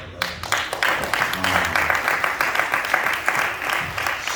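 A theater audience applauds steadily, a dense wash of clapping that keeps going at an even level with voices mixed in.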